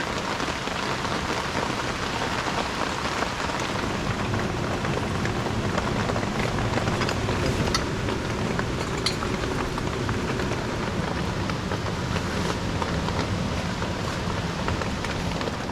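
Rain falling at a campsite in Dingalan, a dense, steady patter of drops striking surfaces, close and continuous, with no voices.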